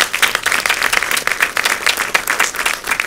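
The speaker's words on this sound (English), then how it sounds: "Give them a round of applause." Steady applause from an audience at a quiz event, dense overlapping hand claps sustained throughout at even loudness.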